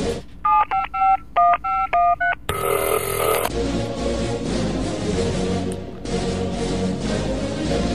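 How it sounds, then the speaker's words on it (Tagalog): Touch-tone telephone dialing during a live radio call to a city mayor: a rapid run of about ten distinct DTMF beeps, then a short burst of line noise and a steady hiss of the connecting line. "para i-connect lang ho kay Mayor Joseph Tan."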